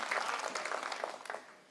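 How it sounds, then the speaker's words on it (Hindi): A crowd at a Hindi comic poetry gathering applauding steadily at a moderate level, a dense wash of clapping that fades slightly toward the end. "एक बार जोरदार तालियां बजाकर बताइए कि आप मुझे सुन रहे हैं"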